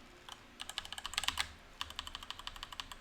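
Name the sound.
typing on a computer keyboard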